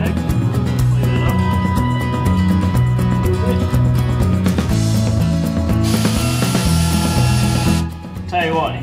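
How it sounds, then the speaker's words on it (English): A Milwaukee ratchet clicks rapidly while loosening the differential cover bolts on a Dana 44 axle of an International Harvester 4x4 truck, a loud close mechanical buzzing that stops near the end. "if you don't have a Milwaukee ratchet, get one"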